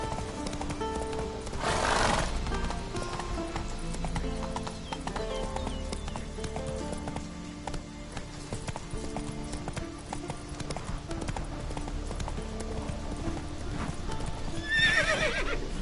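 Roach, a horse in The Witcher game, trotting with steady rhythmic clip-clop hoofbeats, joined by a whinnying neigh near the start and another near the end, close and clear.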